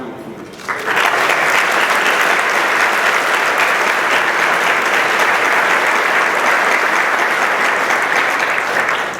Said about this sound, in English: let's also give a round of applause to those family members.